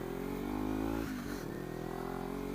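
A Kawasaki Ninja 300 motorcycle engine running steadily near the rider, with a brief dip in revs midway before it settles back into an even hum.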